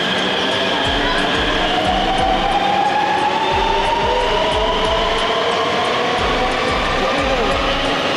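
A rapid rail train runs between the new Ghaziabad bus stand and Duhai depot, heard from on board as a steady, loud rumble and hum of the rail car, with a faint rising whine and light rhythmic clatter underneath throughout.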